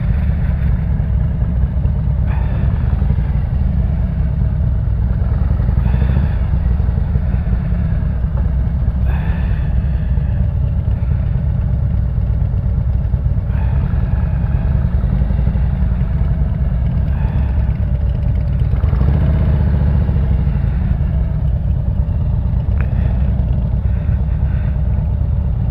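A motorcycle engine rumbles loudly and steadily while rolling slowly across a gravel parking lot with potholes, low throaty chugging close up with occasional clatter, no voices.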